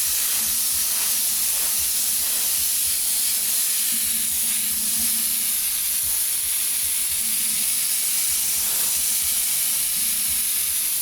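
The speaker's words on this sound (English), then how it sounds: "all we're doing is a wide spray, half on the masking and half of it just blends down" Airbrush laying down a wide spray of yellow paint, a steady broad hiss running continuously and close up, with no talking.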